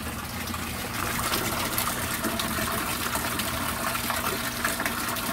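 Water trickles and gushes steadily, draining from a flood-and-drain hydroponic container with a constant close wash of liquid noise and no voices.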